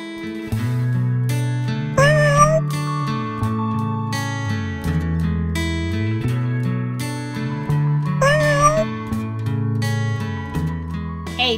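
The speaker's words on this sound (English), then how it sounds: "A kitten makes a meow sound." A kitten gives two short meows, a few seconds apart, heard over a continuous bed of loud background music.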